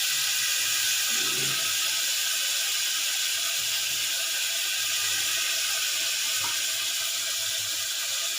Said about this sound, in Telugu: ఆనియన్ అయితే కడిగి వేస్తాను నేను